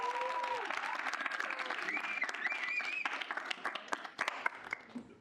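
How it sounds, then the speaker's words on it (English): A room full of people at a student senate meeting claps steadily, with a few whistles rising over the applause as it fades toward the end. "So give a quick round of applause for Derek."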